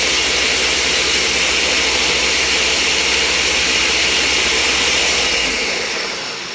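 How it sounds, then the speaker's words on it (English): A loud, steady motor roar with a high whine runs throughout, close and unbroken, easing off slightly in the final moment. "if you've got a high power blender, that's going to go a lot faster and it's going to be a lot less loud than mine is"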